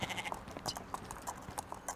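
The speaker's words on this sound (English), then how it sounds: "there are goats loose" Several loose goats wander a street on an island, giving faint, distant bleats spaced through a quiet outdoor background.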